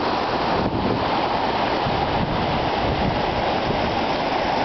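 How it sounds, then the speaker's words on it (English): Rain falls with running water in Henderson, Nevada, making a dense, steady wash of noise that never lets up, close and fairly loud, with no voices. "This is only like 15 minutes of rain in Vegas."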